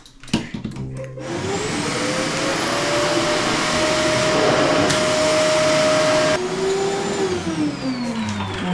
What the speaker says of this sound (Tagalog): magba-vacuum na siya.